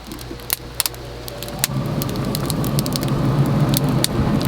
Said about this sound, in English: What I'm going to do now is I'm going to turn on the combustion fan.